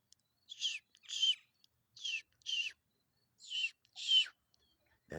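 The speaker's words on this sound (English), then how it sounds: "It's some other bird. I think it's a catbird." A catbird calls outdoors near a farm, a series of short raspy chirps and squeaky phrases in irregular bursts, fairly close and alone against quiet.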